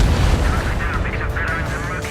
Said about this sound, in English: H2, missile away.